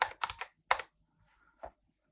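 Computer keyboard keys tapped in a quick burst of about four strokes, a short pause, then one more strike and a faint final tap, close and fairly quiet.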